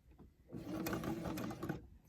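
A sewing machine back-stitching over a fitted fabric face mask, running in one steady burst of about a second after a quiet start, then stopping.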